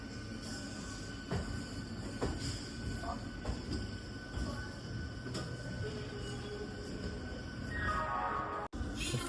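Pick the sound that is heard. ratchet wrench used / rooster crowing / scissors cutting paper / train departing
train departing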